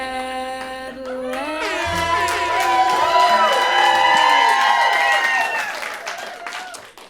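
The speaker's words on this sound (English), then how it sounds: "They were clapping too loud." A large audience at a Trump event applauds and cheers loudly, a sustained wash of clapping and whoops while a tonal, voice-like layer rises and falls over it.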